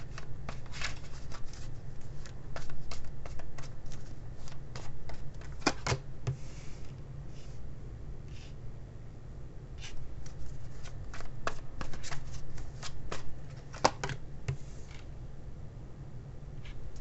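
A tarot card deck is shuffled close up, giving a continuous soft riffling and flicking patter with sharper snaps scattered through, all steady and without speech.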